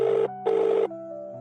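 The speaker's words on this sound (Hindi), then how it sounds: "रिंग गई तो उसने मंजीत को फोन दिया, पर सूरज ने फोन रिसीव ही नहीं किया" A telephone ringing tone plays two clear steady rings, each with a short pause after, followed by a lower sustained tone; no voices.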